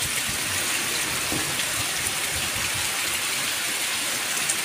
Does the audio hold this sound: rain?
yes